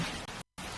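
Steady drizzle in the Vaudeville video game, a soft continuous hiss of rain on grimy city cobblestones that cuts out abruptly for a moment, then resumes.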